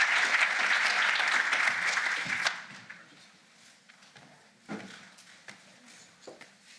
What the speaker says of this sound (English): a huge round of applause again for all of our speakers